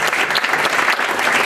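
Audience applause welcoming a speaker onto the stage at a business seminar, a dense steady clapping that fills the whole moment with no voices above it.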